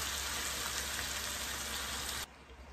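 Vegetable bhaji frying in a pan, a steady dense sizzle and crackle that runs loud and even, then drops off abruptly near the end.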